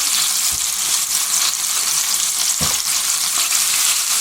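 Rabbit pieces browning in a hot pan for a hunter-style sauté give off a steady, loud close sizzle and crackle, with a couple of brief low bumps as the pieces shift.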